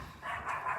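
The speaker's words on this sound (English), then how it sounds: "My neighbor dog" A neighbour's dog barks once or twice in the distance, a short faint yelp outdoors with no talking over it.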